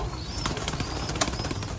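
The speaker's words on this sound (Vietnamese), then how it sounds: "ở đây còn rất nhiều chim bồ câu này" Thai Titan pigeons beating their wings in a loft, giving a series of quick, fluttery flaps in irregular bursts close by, with soft background noise.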